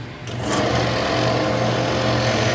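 An electric drill runs steadily with a chuck setup for turning a game call, a continuous close motor whine with a low hum, after a brief spin-up at the start.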